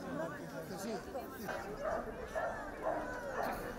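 Dogs bark and yip faintly and repeatedly in a crowd at a Saint Anthony animal blessing in Cacabelos, El Bierzo, under steady speech and chatter.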